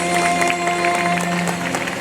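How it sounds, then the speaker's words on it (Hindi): Audience applause at a Ram Prachar Manas Pariwar religious gathering in Devla Makeni, a steady dense wash of clapping over a sustained musical drone, continuous and moderately loud throughout. "एक बार ताली बजा करके सम्मान करो"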